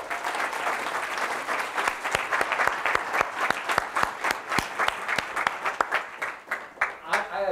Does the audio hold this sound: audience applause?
yes